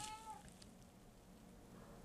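A house cat gives a single faint meow at the start, followed by quiet room tone.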